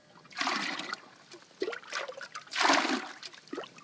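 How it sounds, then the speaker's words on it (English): Salty water is poured from a container into a metal pannikin outdoors in the bush, sloshing in two or three uneven bursts of splashing and gurgling, close by with no talking. "So just fill up the pannikin here and straight on the fire."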